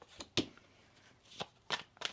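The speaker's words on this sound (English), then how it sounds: "One more shuffle." A tarot card deck being shuffled gives several short, crisp riffling bursts spaced irregularly, close and fairly quiet, with no talk.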